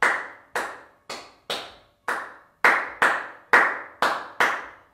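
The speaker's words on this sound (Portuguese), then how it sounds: "Ao ouvir essa versão, tente acompanhá-la com as palmas," Ten crisp hand claps ring out alone in an even, steady rhythm, each sharp and close with a short decay, some landing slightly harder than others.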